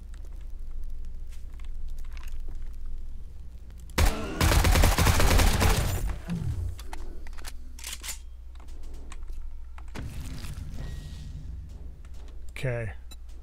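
Weapon fire in 7 Days to Die with the Darkness Falls mod during a horde night: a dense two-second burst of loud shots, then scattered quieter clicks and reports against a low steady hum.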